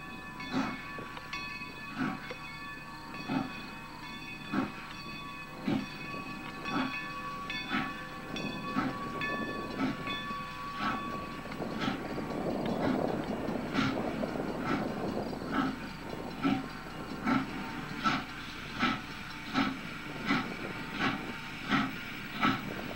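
Steam locomotive number 90 climbing a grade on a westbound run, its exhaust chuffing in a steady rhythm with hissing steam, loud and close over a continuous rumble.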